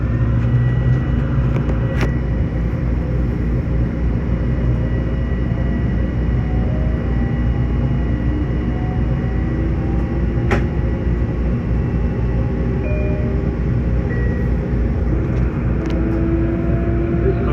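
Long Island Rail Road train interior on a rainy ride toward Jamaica: a loud, continuous low rumble of wheels and motors fills the car, with a few sharp clicks and faint squeals over the steady drone.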